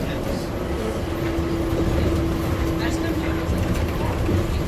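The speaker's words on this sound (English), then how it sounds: "Welcome aboard the ATL Skytrain." An ATL Skytrain people mover at the airport, departing with a steady loud rumble and hum of the moving car heard from inside, the noise constant throughout.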